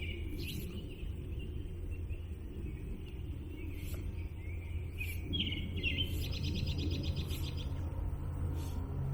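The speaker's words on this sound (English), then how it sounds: "The bird song out here is pretty amazing." Birds sing outdoors on a spring or summer morning by the water, with repeated chirps and trilling calls scattered over a steady low rumble of background noise, fairly faint and unaccompanied by talk.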